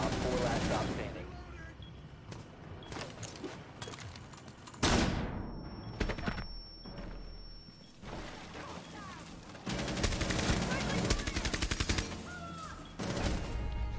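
A shooter video game delivers dense bursts of rapid automatic gunfire near and loud, broken by pauses and a sudden blast. A long rattling burst comes late, and players talk over it with in-game announcer lines.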